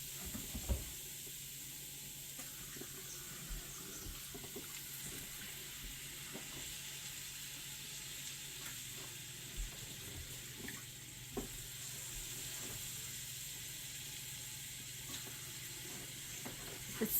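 Water pours steadily from a tap into a cooking pot, a continuous hissing rush with small splashes and clinks that runs for the whole stretch.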